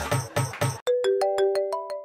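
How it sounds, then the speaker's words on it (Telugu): A mobile phone ringtone for an incoming call plays a clear, close sequence of bright electronic notes in a rising pattern, preceded by three short louder bursts of sound. "మన సీనియర్ ఫోన్ చేస్తున్నాడు రా. చూడు ఏంటో."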